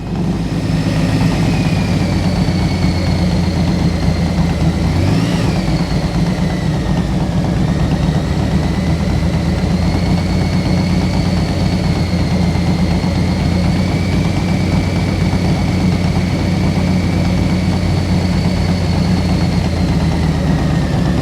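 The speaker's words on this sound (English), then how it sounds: "Listen to your engine. You know what it sounds like by now." A motorcycle engine idles steadily for the whole stretch, a constant low rumble with a faint high whine, no speech over it.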